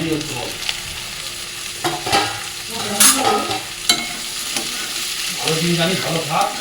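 Chicken frying with onion and capsicum in a pan, steady sizzling broken by repeated scraping and stirring strokes of a utensil, close and fairly loud, with no talking.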